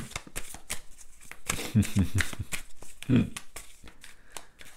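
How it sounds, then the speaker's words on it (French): A tarot deck cut and three cards drawn, with soft papery shuffles, slides and flicks close by, under and between a woman's spoken words. "on va le couper, et puis on va prendre 3 cartes"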